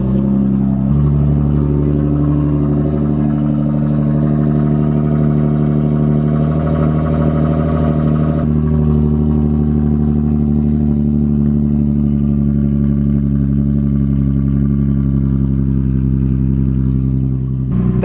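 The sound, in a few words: Infiniti G37 engine running through modified exhaust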